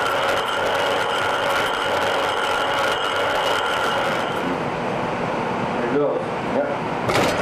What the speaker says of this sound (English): After an open gear lubricant has been applied to all the gears in the machine, you can hear a dramatic reduction in the noise level.